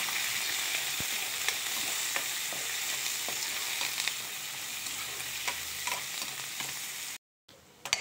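Onions, two green chillies and curry leaves sizzle in tempering oil with seasoning seeds, a constant close crackle dotted with light stirring clicks before a brief break near the end.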